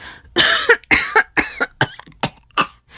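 A series of close, harsh coughs, around eight in quick bursts, loud and raspy with brief gasping pauses between them.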